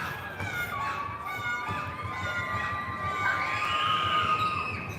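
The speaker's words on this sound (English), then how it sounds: "Crowd making noise." Crowd noise at a girls' high school basketball playoff game in a gym, a steady din of shouting and cheering with high-pitched voices and squeaking sneakers, moderately distant.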